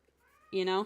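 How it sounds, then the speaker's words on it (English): A house cat lets out a loud, drawn-out, tonal meow close by, rising sharply after a brief quiet lead-in and cutting off abruptly. "I apologize if you can hear my cat in the background."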